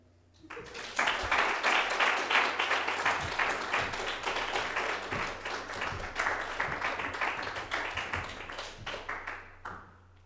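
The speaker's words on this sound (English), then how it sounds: "Please give a round of applause for Jeffrey Schmidt" An audience applauds performer Jeffrey Schmidt at a recitation event, a dense, steady burst of many hands clapping that lasts about nine seconds before thinning out and fading.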